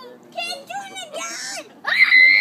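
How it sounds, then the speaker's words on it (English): A young boy screams at an outdoor marshmallow-roasting fire in a series of loud, high, strained bursts with brief breaks between them, close by, and the last burst is the sharpest. "don't be screaming like that"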